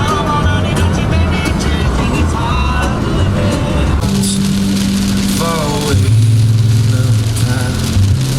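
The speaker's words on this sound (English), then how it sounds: "I'm standing outside in the pouring rain." Pouring rain falls outside near a car, with a loud, continuous hiss of heavy rain running throughout, and voices and passing tones over it.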